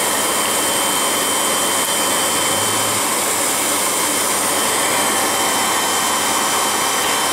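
A Revere P-90 8mm film projector runs continuously, giving a loud, steady mechanical whir with dense airy hiss and no pauses or voices.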